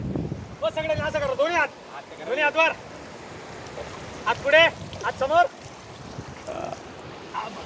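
Steady wash of river and stream water runs beneath several people's voices as friends play in the water on an outing to Padamdungri, with bursts of chatter and exclamations riding over the flow.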